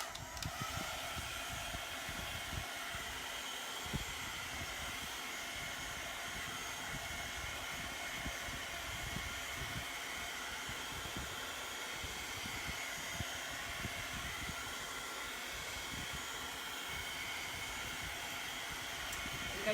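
A hair dryer blows steadily over artwork, a constant broadband whoosh and hiss that runs unchanged the whole time at low volume, with no talking.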